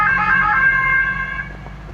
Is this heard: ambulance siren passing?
yes